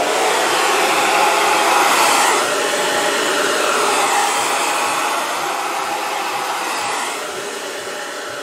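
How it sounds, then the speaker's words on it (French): A hair dryer blowing over wet hair and face, a steady loud whooshing roar close to the microphone that dips slightly in level a few times as it moves. "Donc je sèche mon visage du coup qui va sécher en même temps que mes cheveux parce que l'air va aller sur mon visage et sur mes cheveux."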